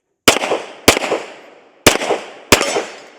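Four loud, sharp pistol shots from a Sig P320 SXG firing mixed 147 grain ammunition, spaced unevenly with a short echoing tail after each, close by with no talking.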